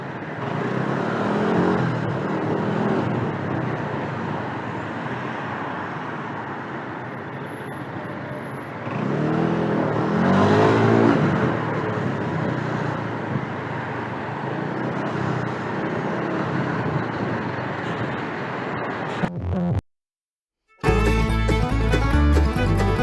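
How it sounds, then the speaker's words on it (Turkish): Road traffic heard from a moving motorcycle in congested city traffic, a continuous rumble of car and bus engines with wind noise, swelling as vehicles pass close, then a brief abrupt cut to silence near the end. "ben burada hiç böyle bir trafik görmemiştim"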